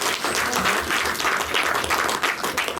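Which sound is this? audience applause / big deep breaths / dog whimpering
audience applause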